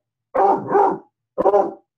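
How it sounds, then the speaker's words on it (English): A dog barks at a chair indoors, two loud close barks, the first a drawn-out double bark, followed by a shorter sharp one after a brief pause. "She's barking at my chair."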